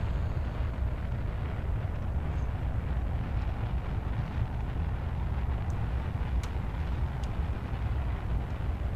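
Rocket engines launching in Kerbal Space Program, firing a long rocket with solid boosters: a continuous loud, broad roaring rumble that stays steady and unbroken throughout, with no pauses.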